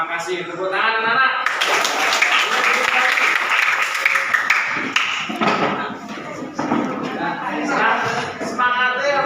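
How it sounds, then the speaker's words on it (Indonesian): Children in a classroom break into loud, sustained clapping after a short stretch of talk, with voices continuing over and around the applause. "Terima kasih, tepuk tangan anak-anak."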